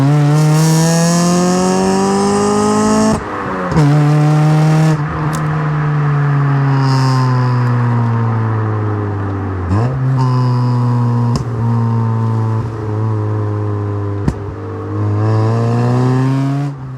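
A Honda Civic EJ2 with a mismatched aftermarket exhaust revs loudly up close, its raspy engine note climbing and dropping through several rev cycles with sharp breaks between pulls and no talking.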